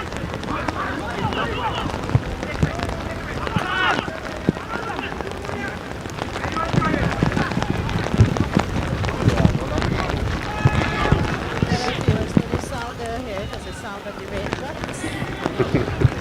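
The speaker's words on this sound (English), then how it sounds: "The sound of the raindrops that our viewers are hearing at this point in time." Steady rain hisses across a secondary-school premiership football match, a dense, continuous wash of drops on the ground under near, ongoing commentary-style talk.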